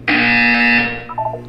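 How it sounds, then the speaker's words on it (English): A loud electronic buzzer sounds in the Portal 2 video game: a single harsh, steady tone held for nearly a second, then fading into a few softer tonal blips. "You will hear a buzzer."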